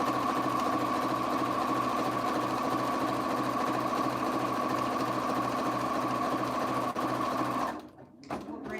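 A sewing machine stitches a surgical scrub cap in a steady, fast, even whirr that runs unbroken for several seconds, close and clear, then stops abruptly.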